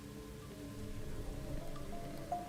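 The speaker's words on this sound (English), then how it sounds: "This is the source of the rain." Steady rain falls in a dim village scene in the video game Rain Code, a soft, even hiss at low level with faint droplet patter and no voices.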